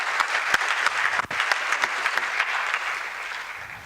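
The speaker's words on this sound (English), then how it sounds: "Can we give him applause?" Audience applause at a University of Dar es Salaam computing event on generative AI: a steady, dense wash of clapping hands that fills the room, sustained at an even level for about four seconds.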